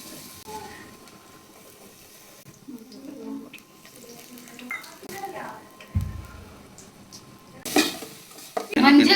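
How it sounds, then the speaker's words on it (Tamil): Ground spice paste dropped into a hot frying pan and stirred, scattered scraping and soft sizzling that swell into a louder splattering hiss near the end, with a voice talking at times. "நம்ம அரைச்சி வச்ச விழுது அதை சேர்த்தி கொள்ளவும்"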